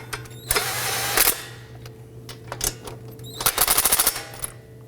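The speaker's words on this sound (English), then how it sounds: "put the socket on the impact gun, and just snug them down" Impact gun snugging the brake caliper bolts on a 2018-2024 Toyota Camry front brake, heard as several short, loud rattling bursts of hammering with pauses between them, close up with no talking.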